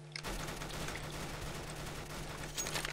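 Gunfire rattles in a Roblox shooting game, a dense, continuous burst of rapid shots at moderate volume with no speech over it.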